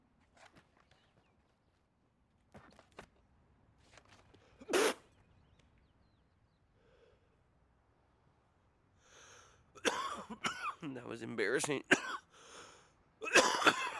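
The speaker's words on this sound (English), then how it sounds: "why do you cough like a bitch?" A person coughing several times in scattered, rough bursts that grow louder and more clustered toward the end, close to the mic, with a quiet stretch and faint background noises between them.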